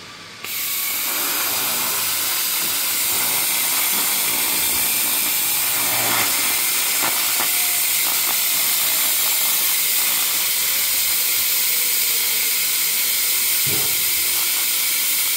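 A steady, loud hiss of an Everlast 301 laser cleaner burning ink off cardboard runs throughout after an abrupt start, with faint crackles and brief pops scattered across it as bits catch fire.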